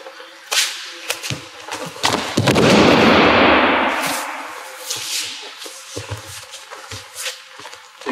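A judo throw lands hard on the mat, a loud broad slap-like impact around the middle followed by a long rustling decay, with scattered smaller thuds and shuffles of bodies before and after.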